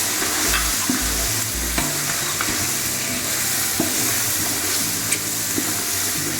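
Chicken fries in a pan with coriander, cumin powder and black pepper, a constant loud sizzle with stirring scrapes and light clinks, under soft background music with no talking.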